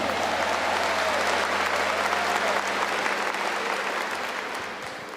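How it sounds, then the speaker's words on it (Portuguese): An audience at a Catholic religious gathering bursts into loud, dense applause that holds steady, then begins to fade toward the end. "Dá uma salva de palmas para o nosso Deus,"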